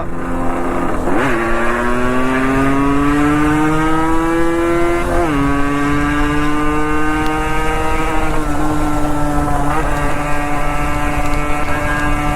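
A Yamaha motorcycle engine and exhaust runs loud and steady with a strong droning tone. It revs up sharply three times, at the start, in the middle and near the end, then settles back into an even hum.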